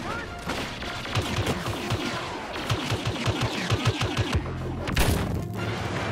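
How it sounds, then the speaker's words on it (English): Heavy blaster gunfire in Star Wars Battlefront: a steady stream of repeated shots with booming impacts and an explosion-like burst near the end, loud and continuous throughout. "I'm being shot by the other guy."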